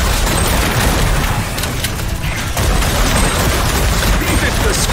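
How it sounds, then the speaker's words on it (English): Continuous loud gunfire while shooting robots in the video game Space Punks, a dense barrage of overlapping shots and impacts with no break. "I just really like shooting them."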